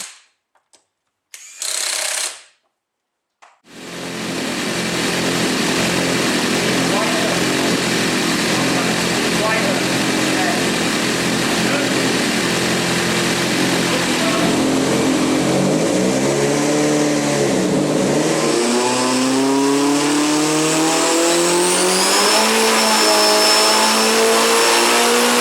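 A twin-engine Opel Corsa runs loudly on a dyno, a sustained roar that builds as the revs climb and pitch rises toward the end, after a few short bursts and gaps at the start.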